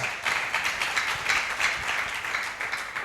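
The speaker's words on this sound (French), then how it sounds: "Acclamez pour le Seigneur" Congregation clapping during a French-language church worship service, a steady dense patter of many hands that runs without pause for about three seconds, with no break or trailing off.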